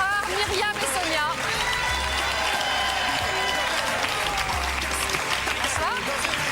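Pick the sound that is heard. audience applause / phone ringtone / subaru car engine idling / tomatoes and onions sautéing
audience applause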